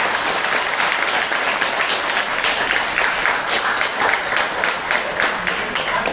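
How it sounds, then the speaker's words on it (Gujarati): An audience at a product seminar at Prithvi Hotel in Maninagar gives someone speaker a loud, continuous round of applause lasting about six seconds, with scattered crowd noise mixed in. "તો તમને લાગે છે કે મેડમ માટે એક જોરદાર તાળી થઈ જાય?"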